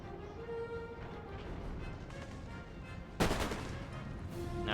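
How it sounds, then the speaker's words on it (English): Musket volleys crackle across a battlefield in the game Total War: Empire, with scattered distant shots and then a sharp, louder burst of massed gunfire. "Now we're getting some musket fire."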